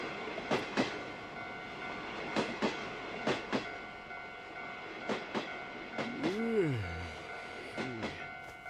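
A train runs on its rails with recurring clickety-clack bursts over a steady rolling hum, tonal squeals sweeping down near the end, close and moderately loud, a faint voice briefly present.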